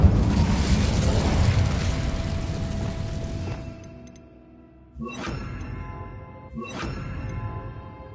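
Incendio fire spell cast in the video game Hogwarts Legacy, a loud fiery burst and roar that fades out, followed by two sharper whooshing cracks with ringing tails, no talking.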